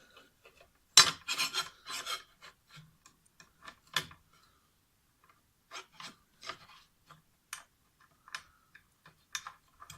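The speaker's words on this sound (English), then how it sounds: "I've put one of the screws through. Just catch that by hand." Screws being threaded by hand through a drum mounting plate on a Yamaha Recording Custom 9000 drum under restoration, with sparse close scratchy rasps and small ticks, a dense burst early and then scattered faint clicks amid silence.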